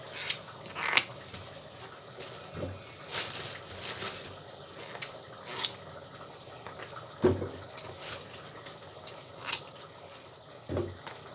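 An eggplant is rinsed under a running kitchen tap, with intermittent splashes and gurgling bursts of water coming and going at moderate volume in a quiet room.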